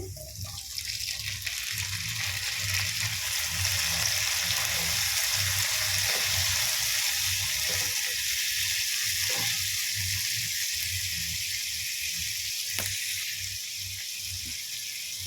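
Tomatoes fry in a pan for Bengali egg bhujia, giving a steady, moderately loud hiss of sizzling oil that continues unbroken throughout, with faint occasional scrapes.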